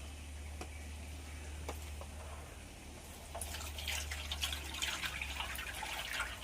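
Water pouring into collected rubber latex in a dish for sheet making, a soft trickling and splashing that grows busier toward the end, fairly quiet over a low steady hum.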